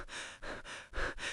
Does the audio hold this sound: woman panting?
yes